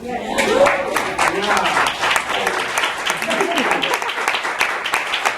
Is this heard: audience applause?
yes